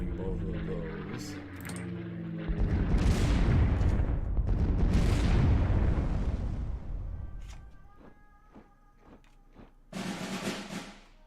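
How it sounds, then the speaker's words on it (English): Bombing explosions in the WWII card game KARDS, a broad rumbling blast swelling for several seconds and fading, followed by sharper clicks and a brief burst near the end, with a voice talking over it. "Precision bombing both of those."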